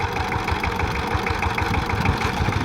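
A Saifing 12-horsepower power tiller engine runs steadily close by with a rough, throbbing idle, continuous and loud throughout without voices.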